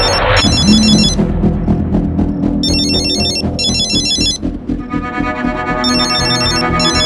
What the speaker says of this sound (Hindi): ये किसका मोबाइल बजा?